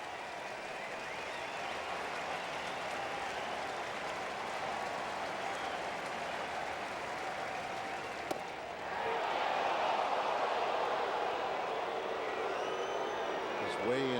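Stadium crowd at a Cardinals vs Reds baseball game, a steady broad roar of cheering that swells louder midway through, continuous and enveloping.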